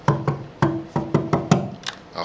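Percussive knocks on an acoustic guitar body imitate a bass drum: about eight dull, woody thumps in an uneven rhythmic pattern, close and clear with nothing else playing.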